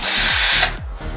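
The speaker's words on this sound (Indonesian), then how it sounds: "bor" Power drill whirring loudly and close in a steady burst, its motor pitch dipping and rising as the trigger eases and presses again, with no talk.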